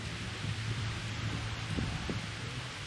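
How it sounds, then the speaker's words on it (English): Steady wind rushes and buffets outdoors in downtown Calico Rock, Arkansas, a constant broadband roar with occasional low gusts thumping against the microphone. "It's kind of windy, so sorry about the wind."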